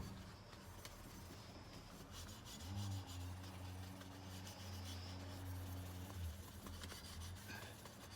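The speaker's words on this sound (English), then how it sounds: "But if you really want to make it stand out and look good, fine grade steel wool." Fine-grade steel wool rubbed over a freshly soldered copper pipe joint gives faint, steady scratchy rasping strokes, with a low hum in the background.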